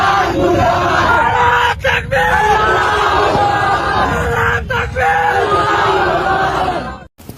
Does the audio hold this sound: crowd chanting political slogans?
yes